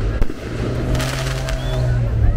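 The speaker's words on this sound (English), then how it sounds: "Oh, fireworks." Fireworks crackle and pop in the distance at a Mexican Independence Day celebration, with a few sharper bangs, under a constant low rumble and bits of talk.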